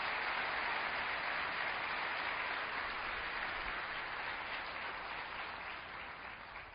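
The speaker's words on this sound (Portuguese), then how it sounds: "Pode aplaudir a Cristo." A large congregation at an Assembleia de Deus church applauds at length, a dense, even roar of many hands clapping that gradually tapers toward the end.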